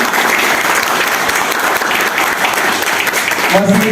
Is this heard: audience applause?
yes